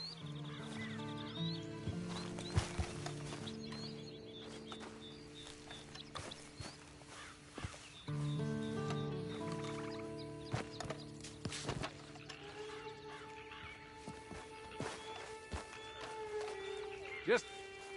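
Horse hooves clip-clop with occasional whinnies in Red Dead Redemption 2, set among game music tones and character voices talking over the action.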